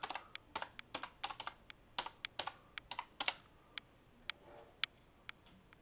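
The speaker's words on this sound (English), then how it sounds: "Go ahead and log in and put my password in." A password is typed on a computer keyboard: a quiet run of uneven, crisp key clicks in quick bursts, some single taps spaced out toward the end, with no voices.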